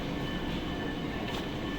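A train waits at a Swiss station, giving off a steady, even rumble with a faint electrical hum and no distinct clatter or squeal.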